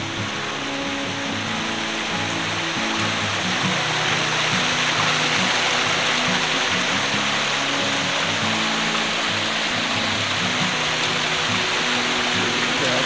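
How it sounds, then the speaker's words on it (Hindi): Small waterfall at a hill resort in Kasauli, a constant broadband rush of falling water, steady and fairly close, with a faint low tonal hum running underneath. "वाटरफॉल हो रहा है छोटा सा"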